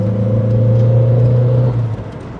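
An MG Maestro 2.0 EFi engine revs hard under acceleration on the road, a loud close droning rumble with a steady low tone that eases off near the end.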